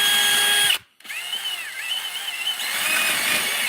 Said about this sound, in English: we're going to just drill 2 holes in here